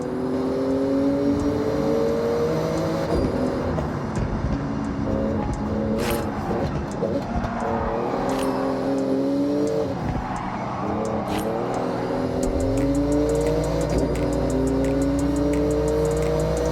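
A Porsche racing through a speed zone in Forza Horizon 6, the engine revving up through gears with rising whines, tire squeals and a steady roar close up.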